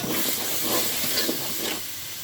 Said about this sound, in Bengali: মরিচ হলুদ জিরা সজের গুঁড়া দিয়ে দিলাম এখন আমি ভালোভাবে কষিয়ে নিচ্ছি